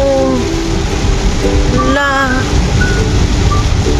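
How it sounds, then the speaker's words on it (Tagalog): Heavy rain hisses in a loud, steady wash close by, with voices talking over it partway through. "Ang lakas ng ulan, guys."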